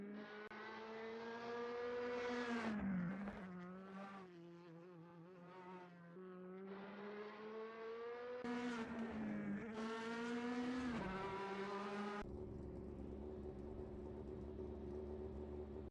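DTM Classics race cars speeding by in a racing video game, engines whining and shifting pitch as they rise, dip and pass, sustained and fairly close for the whole stretch without talk.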